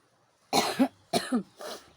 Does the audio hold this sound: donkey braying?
no